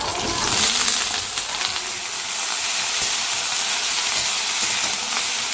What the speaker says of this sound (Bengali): এবার চিচিঙ্গাটা এর মধ্যে দিয়ে দিচ্ছি।